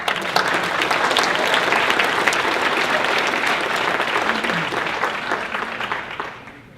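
Conference audience applauding the planning committee at an annual conference introduction, a steady dense clapping that holds strongly for about six seconds before tapering off, with no talk over it.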